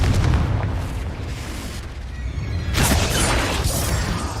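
A Confringo blasting spell goes off in the video game Hogwarts Legacy. Loud, booming, continuous explosive rumble, swelling again partway through, with no voices.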